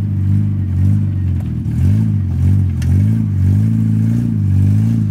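A car with a bent wheel after a crash pulls away, its engine droning and revving in low wavering surges, close and steady throughout.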